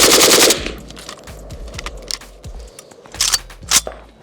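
An AK-pattern rifle fired from the shoulder on an outdoor range lets off a loud, near burst at the start, then a few sharp single cracks and another short burst toward the end, with no talk.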